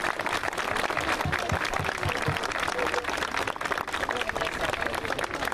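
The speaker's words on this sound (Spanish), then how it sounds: "Un aplauso para ellos que están acá hoy día." Audience applause at a public event honouring visiting council members and the governor of Rapa Nui in Quellón, steady dense clapping filling the room with faint voices mixed underneath.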